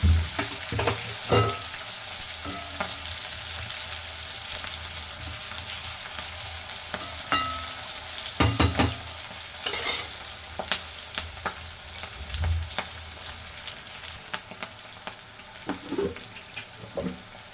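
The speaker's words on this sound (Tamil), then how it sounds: "இப்போ காய் வந்து கொஞ்சம் காயை நல்லா வதக்கிடலாம்" Steady sizzling and frying from a pan, with occasional scraping stirs and clinks of a utensil, close by and no talking.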